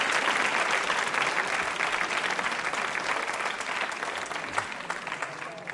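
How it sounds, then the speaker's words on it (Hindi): A quiz show audience at a Ganesh Chaturthi episode applauds loudly for a participant, dense continuous clapping filling the room from start to finish and tapering slightly toward the end. "तालियां जोरों से बजाइए नासिर अहमद साहब के लिए"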